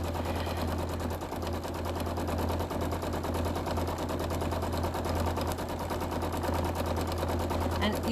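Sewing machine stitching a quilt, a rapid steady mechanical chatter with a low motor hum running continuously and close, no voices over it.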